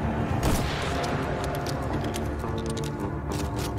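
Rapid video game gunfire in Nobody's Left during a fight with a tank in a cramped space: repeated sharp shots and bursts over heavy rumbling booms, loud and continuous.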